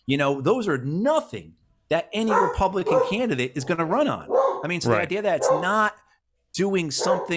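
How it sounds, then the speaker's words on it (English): Dogs bark and yip indoors in the background while someone speaks steadily over them, the barking partly masked by the continuous talk. "apologize for my dogs."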